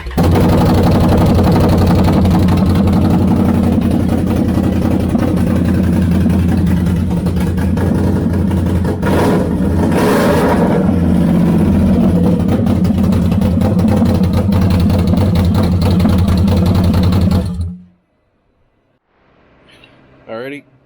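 A 2021 Can-Am Outlander 850 XMR ATV runs loud with its headers and muffler removed, a heavy, raw engine roar with a rev swell midway, then it cuts off abruptly near the end, leaving a brief faint noise.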